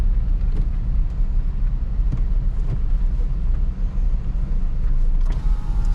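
A 2007 Honda Civic drives along in second gear, giving a steady low engine and road rumble inside the cabin with occasional faint creaks and rattles, and no talk.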